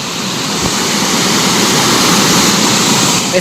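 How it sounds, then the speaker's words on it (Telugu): Loud, continuous roar of rushing water from a nearby waterfall in Nehru Zoo Park, a dense steady wash of noise with no pauses. "ఇక్కడ వాటర్ సౌండ్ వస్తుంది, ఐ థింక్ వాటర్ ఫాల్స్ అనుకుంటా"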